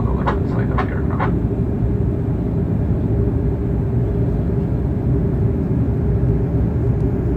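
Steady, loud broadband cabin roar of a Plus Ultra Airbus A330 airliner cruising in flight, continuous throughout with a few faint chimes or clicks near the start.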